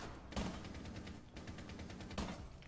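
Gunfire in a first-person shooter video game with heavy recoil, two sharp bursts standing out over a dense, continuous clatter of shots, fairly quiet in the mix, with no talking.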